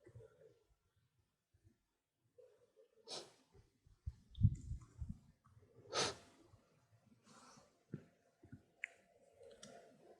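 Computer mouse clicks while creating a desktop shortcut, a few sharp, scattered clicks mixed with soft breathing and faint handling noise, close and quiet.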